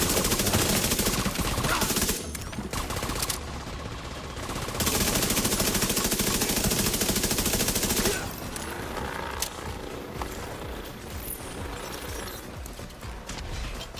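Heavy gunners' machine gun fire in The Division 2, a dense, loud stream of automatic shots that runs almost without a break, dips briefly and returns at full strength, then falls to quieter scattered bursts.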